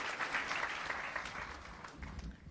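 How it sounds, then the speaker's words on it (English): An audience applauds two judges at a talk on inner peace, a steady wash of many hands clapping that sounds soft and somewhat distant, tapering slightly toward the end. "another round of applause for Judge Paradiso and Judge Noble"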